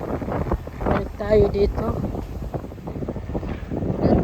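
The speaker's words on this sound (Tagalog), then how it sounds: "Mahangin lang" Gusty seaside wind buffets the microphone in low rumbles while a person talks over it, with the wind swelling near the middle and end.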